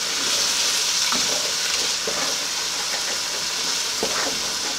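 Water poured into a simmering soup sauce in a pan: continuous bubbling sizzle and hiss with a few soft clinks and stirring knocks, close and steady throughout.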